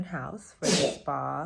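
A single sharp sneeze bursts out between snatches of a woman's speech at a beach resort and spa, loud and brief in the middle of the talk.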